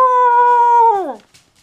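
A puppy howls in one long sustained note that holds steady and then slides downward and fades, close and clear, followed by a faint short whimper.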